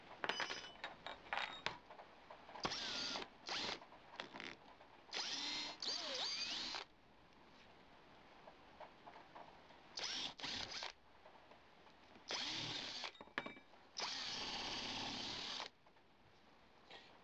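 Bursts of drilling into wooden bowl blocks, a series of short irregular whirring runs separated by quiet pauses, fairly faint and without talk.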